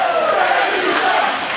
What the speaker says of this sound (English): And the crowd comes alive for him once again.